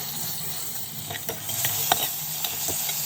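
A spoon stirs amaranth (thotakura) curry as it fries in a pan, a soft sizzle running underneath and a series of scraping clicks close by.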